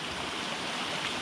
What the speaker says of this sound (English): there's a little micro waterfall here